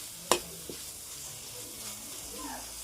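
Dill greens mixed with grated coconut are stirred in a pan. A sharp scrape or clack of the utensil is followed by a softer knock, and a quiet, steady sizzle continues beneath faint background sounds.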